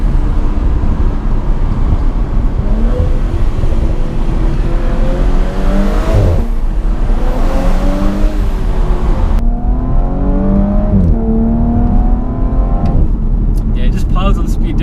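A 2018 Audi S4 Avant's engine pulls hard under acceleration from inside the car, a loud sustained drone rising in pitch through gear changes, with people talking over it.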